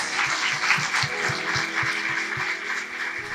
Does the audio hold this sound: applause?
yes